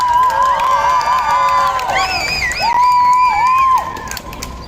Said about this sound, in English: So let's give a big cheer to Brittany, one of the organizers.